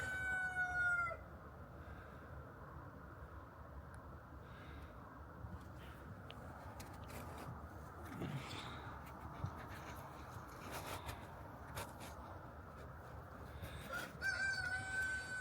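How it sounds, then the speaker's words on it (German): Chickens calling in a coop at dusk as they settle for the night, faint and distant, with occasional crowing-like calls amid a quiet outdoor background. "Die Hühner sind schon bereit, zum ins Bett zu gehen."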